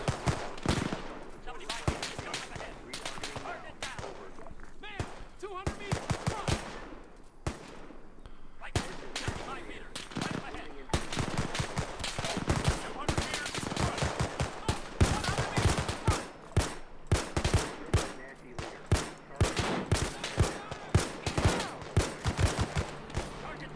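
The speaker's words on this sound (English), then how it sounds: "Mortars right there. We're taking hits." Mortar blasts and machine-gun bursts from a WW2 combat patrol in Arma 3 fill the scene with dense, continuous fire: rapid rattling shots and heavier booms overlap loudly and without pause.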